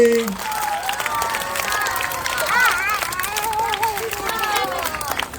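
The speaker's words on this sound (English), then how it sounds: "Tigers, Dolphins and Falcons, why are we not clapping?" A crowd at a school carnival's grand closing ceremony claps in scattered, uneven bursts while voices call out and chatter loudly over it throughout.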